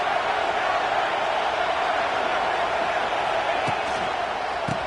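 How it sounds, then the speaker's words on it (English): Broadcast crowd roar from a football stadium at a Notre Dame versus Arkansas game: a steady, loud wash of massed voices that holds for the whole stretch, with a couple of faint thuds near the end. "This crowd ready to make its presence known."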